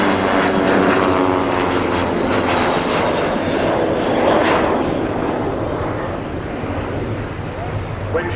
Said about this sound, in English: this could be one of the Vulcan's last flights